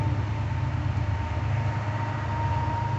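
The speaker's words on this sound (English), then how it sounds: "The noise you hear in the background is a train going into Boston." A train heading into Boston rumbles as a steady low drone with a faint constant whine, continuous throughout the short stretch, without voices.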